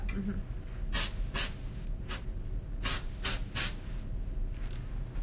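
Six short bursts of hairspray hiss close by onto a bride's hairstyle, spaced in quick pairs, with soft background noise between them.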